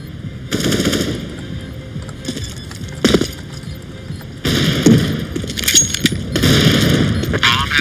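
Bursts of automatic gunfire with thudding impacts and a grenade blast ring out in CS:GO on the Iris map, loud and close, in several dense volleys separated by brief lulls.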